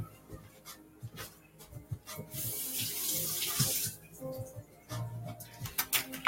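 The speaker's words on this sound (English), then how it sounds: "So here are my tomatoes. I'm going to rinse this off really quickly." Tap water runs into a sink as tomatoes are rinsed beneath it, a splashing stream that swells for a couple of seconds amid small clinks and handling noises.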